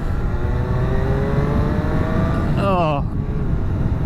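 A Triumph Street Triple RS three-cylinder motorcycle engine revs loudly and smoothly nearby, its pitch climbing steadily before a sharp blip and drop near the end, with a brief exclamation from a rider.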